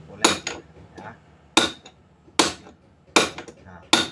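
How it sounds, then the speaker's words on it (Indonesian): Hammer tapping a CVT bearing out of a Honda Beat automatic scooter: five sharp metallic strikes at irregular intervals, close and loud, with faint ringing between blows. "sekarang tinggal kita getok pakai palu, pelan-pelan ya"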